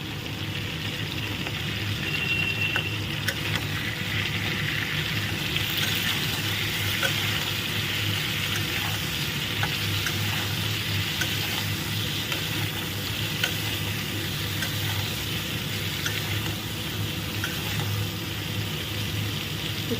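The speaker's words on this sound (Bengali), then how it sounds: "চাপা দিয়ে ভাজলে পরে হয় কি, সুন্দর নরম হয়ে যায় আর ভাজাটাও খুব সুন্দর হয়।" Pointed gourd and potato pieces fry in oil under a lid, a steady, even sizzle and crackle that runs unbroken and fairly loud throughout with no talking.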